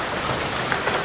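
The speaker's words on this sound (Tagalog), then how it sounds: "medyo maulan nga" Steady rain falls at a riverside campsite in Liliw, Laguna, a dense even hiss of drops hitting surfaces close by, with no talk.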